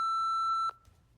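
A single long, steady electronic voicemail beep sounds clearly for most of a second, ending abruptly, followed by faint room noise and a soft click.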